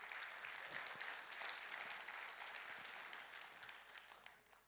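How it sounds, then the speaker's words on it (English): An audience at an opening conference session on digital transformation applauds itself, a broad, even patter of many hands clapping at moderate distance that gradually fades toward the end. "Applaudissez-vous pour être là."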